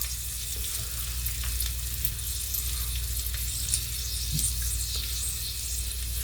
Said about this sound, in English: we're just going to fry them up until they're as crispy as I want them to be.